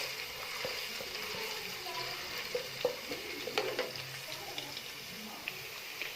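Ginger and garlic fry in hot oil in a home kitchen, a soft, quiet sizzle with occasional small pops and crackles over a faint steady hiss.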